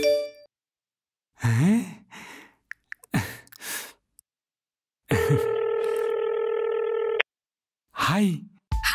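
A phone video call rings out in a steady electronic tone for about two seconds, set between short breaths, sighs and vocal sounds before and after.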